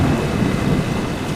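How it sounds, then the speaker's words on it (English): Heavy rain and deep rumbling thunder during a lightning storm at sea, a loud continuous roar filling the whole short stretch with no voices. "The rain's picking up, which means that we're coming into the system that is causing the lightning."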